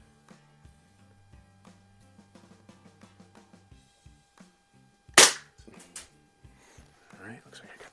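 Gamo 126 Super Match single-stroke pneumatic air rifle firing once, a sharp, loud crack standing out amid quiet handling clicks and soft talk.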